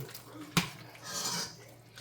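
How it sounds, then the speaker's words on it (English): A utensil scrapes and clinks against a soup pot while bacon is stirred in, with one sharp knock followed by a softer sizzling scrape, close and fairly quiet. "I'm going to stir this bacon in"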